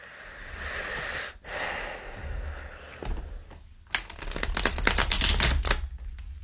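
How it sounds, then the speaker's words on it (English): Tarot cards shuffled by hand, a soft rustle at first, then a rapid run of crisp riffling clicks, over a faint background rumble. "let's give these cards a good shuffle"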